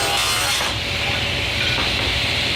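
Table saw ripping ash boards into 1.5-inch face frame strips, a loud continuous whining cut with a brief dip in pitch partway through, heard up close.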